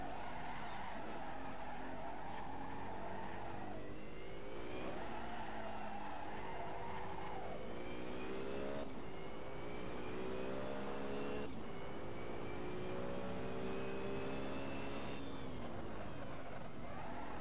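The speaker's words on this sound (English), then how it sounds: "This BMW is quite nice to drive." BMW car in Assetto Corsa with an engine revving up through the gears, with pitch sweeps at each shift and some tire noise, loud and continuous throughout.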